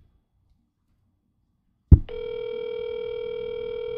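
Silence, then a sharp click followed by a steady, unbroken electronic tone from a phone line, continuing to the end.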